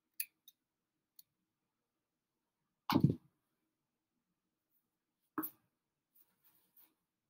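Scissors snip a piece of synthetic wig hair in two distinct close cuts, each a brief crisp crunch, with a few faint ticks before and after in otherwise quiet surroundings.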